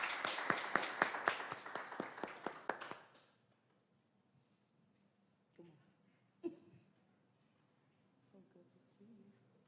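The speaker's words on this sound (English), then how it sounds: "Let's give her a round of applause as she comes." Scattered hand clapping from a small audience greets a Leadership Award recipient at an Urban League diversity and inclusion ceremony, sharp individual claps for about three seconds before fading into a quiet room with a few distant knocks.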